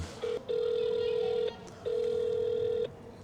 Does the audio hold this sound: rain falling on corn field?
no